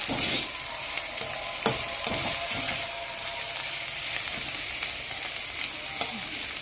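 Onions frying in a pan for a home-cooked chicken fry, giving a continuous bright sizzle with a few scraping stirs and small knocks, close and fairly loud throughout.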